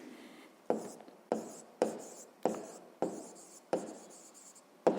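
A pen or marker writes on a board in short, regular scratching strokes, each starting with a sharp tap, about eight in steady rhythm, close and clear with no voices.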